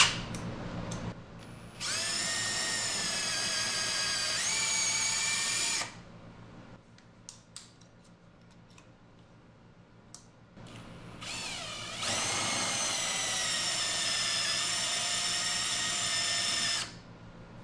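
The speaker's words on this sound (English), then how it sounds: "What we need to do is we need to drill these out a little bit so that they're sitting flush." Power drill boring out screw holes on an e-scooter hub motor so the screws sit flush, two long steady whining bursts of several seconds each with a quiet gap between, close and loud.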